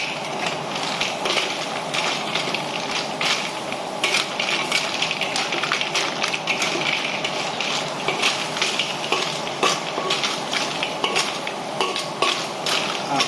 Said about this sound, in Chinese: 现在我们把这个盖子打开，然后呢继续翻炒